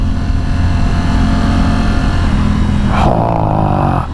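A Triumph Tiger 900 GT Pro motorcycle engine pulling hard, a loud, steady, close drone with wind rush that shifts to a higher tone near the end.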